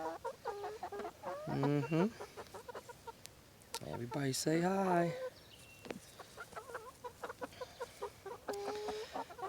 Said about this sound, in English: They are cool to have chickens.